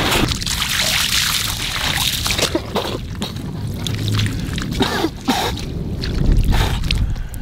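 Water poured and splashed while a face is washed in humid weather at Ras al-Bisha, Iraq, heard as steady sloshing and trickling with irregular splashes throughout.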